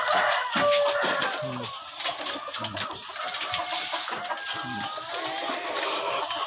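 Chickens cluck and call around a farmyard during feeding time, with a steady ambient bed and occasional faint voices mixed in.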